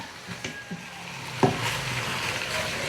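Ingredients for tinumis are stirred as they sauté in a pan, giving a steady close sizzle broken by a few soft scraping clicks of the utensil, with no voices.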